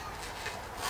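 A zipper on a fully lined, sewn double zipper pouch is handled up close, giving one short, steady rasp that swells slightly at the end.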